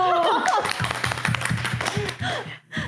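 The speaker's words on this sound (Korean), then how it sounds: "박수!" A short burst of clapping from a few people, close and quick, mixed with voices and a little laughter.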